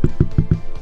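Four firm taps on a microphone boom arm in quick, even succession, each a dull low thump with a short ring, close and fairly loud with no voice.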